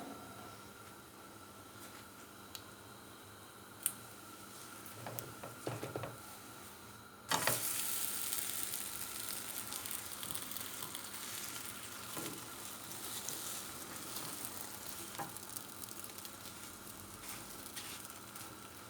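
Crepe batter for börek cooks in a pan with a soft, steady sizzle and occasional light clicks. There is no talk.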